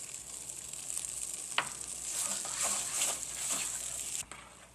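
Beef stuffing being stirred with Worcestershire sauce in a bowl, a steady wet sizzling-like churn with one sharp knock, fairly quiet and close, no voices.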